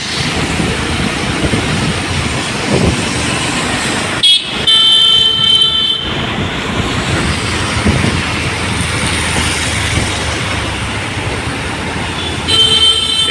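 A loud, steady rumble of a metro train passing overhead in Hyderabad, with a brief screech and tonal whine partway through over constant traffic noise below.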